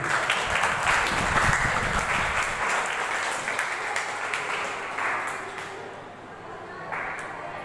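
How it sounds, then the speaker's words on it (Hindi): An audience at a grand opening ceremony of a youth theatre workshop applauds the chief guest, loud sustained clapping from many hands that gradually thins and fades toward the end. "हम सभी उनका करतल ध्वनि के साथ, तालियों के साथ उनका अभिनंदन करते हैं।"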